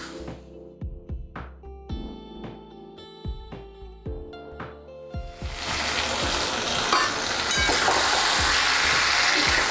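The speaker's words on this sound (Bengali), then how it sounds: "এই চারদিকে তেল ছেড়ে দিয়েছে পুরো, কিন্তু এখনও কষাতে হবে।" Mutton curry frying in oil with spices in a pan, a close, steady sizzle with rhythmic stirring scrapes early on, building into a loud, dense continuous crackle in the second half.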